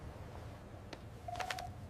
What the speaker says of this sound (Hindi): उसने मंत्री को फोन किया